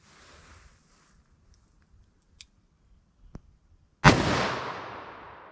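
A single sharp .357 Magnum shot with Blazer Brass ammunition from a 4-inch revolver cracks loudly near the end, its echo fading out after a few quiet small ticks and clicks.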